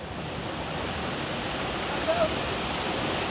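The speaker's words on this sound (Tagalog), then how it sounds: "Binisita namin tong falls ko, guys. Ayan o. Ito yung Arnel Falls." Arnel Falls, a waterfall in Taiwan, gives a constant broadband roar of falling water that stays steady and fairly loud throughout, and no clear voices are heard.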